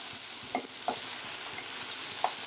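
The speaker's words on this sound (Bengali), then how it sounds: "রসুন পেঁয়াজ ভেজে নেওয়া হচ্ছে" Garlic and onion fry in a pan for a spicy jackfruit seed and prawn curry, giving a steady soft sizzle with a few sharp stirring clicks, no voices.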